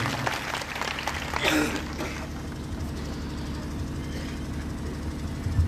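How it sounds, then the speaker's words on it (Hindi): Audience applause at a Suheldev Bharatiya Samaj Party political rally in Bansdih, a broad patter of clapping over a steady low hum that is strongest early and then thins out. "इन लोगों के नाम पर एक बार जोरदार ताली बजा करके आप लोग स्वागत कर दीजिए"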